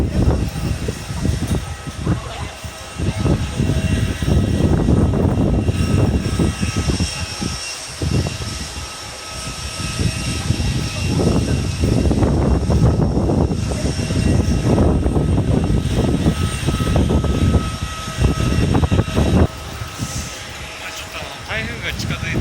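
Airplane engines roar and whine at an airport on a windy day with a typhoon approaching, rising and falling loudly over the full stretch, with people talking and wind noise mixed in.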